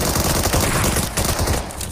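Continuous gunfire in the PUBG Mobile game, dense overlapping shots from close range, loud and steady across the whole moment with no talking.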